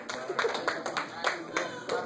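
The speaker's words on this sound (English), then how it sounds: "let's give it up for the comedians to get up here and do this. Give a round of applause." Comedy club audience clapping after a stand-up set, a moderate patter of applause with sharp hand claps and some vocal noise mixed in, fairly steady across the moment.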